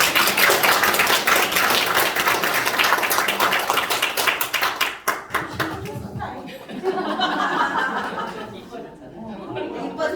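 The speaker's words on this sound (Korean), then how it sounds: "박수 한번 세게" An audience claps hands at a customer invitation day event, a loud burst of dense clapping at first that breaks up midway, giving way to chatter and voices.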